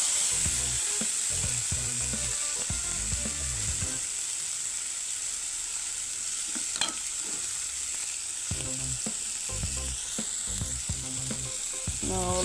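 Vegetable noodles with beans, green peas, onion and tomato sizzle steadily in a pan, a continuous close frying hiss broken by irregular clatter of stirring.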